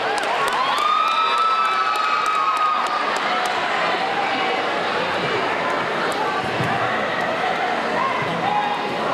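Pep rally crowd in a gym cheers and claps, a steady roar of voices, shouts and applause filling the space at even loudness throughout.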